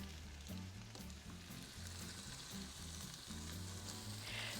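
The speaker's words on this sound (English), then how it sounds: "So we're going to stir these until they just start to look a little bit translucent" Mixed vegetables sauté in a pan with salt and pepper, a soft continuous sizzle with light stirring, quiet and alone throughout.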